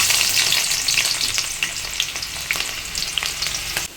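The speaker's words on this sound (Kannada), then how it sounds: "ಈಗ ನಾನು ಹಚ್ಚಿರೋಂಥ ಒಂದು ಈರುಳ್ಳಿ ಹಾಕ್ಕೊತಾ ಇದ್ದೀನಿ." Chopped onion fries in hot oil for an okra gravy, giving a steady, close, bright sizzle with small crackles and occasional stirring clicks, and no voices.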